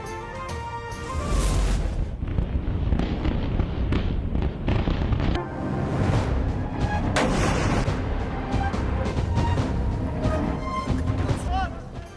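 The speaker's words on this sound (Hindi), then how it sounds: "इसराइल की बैरूत एयरपोर्ट के करीब बमबारी।" Bombing explosions near Beirut airport, a dense, loud, continuous barrage of blasts and rumbling booms with crackling, sustained for the whole stretch, with a voice speaking over it.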